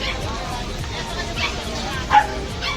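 Bully-breed dogs yip and bark intermittently in the distance beneath a steady murmur of people talking, at a dog seller's in Pasig.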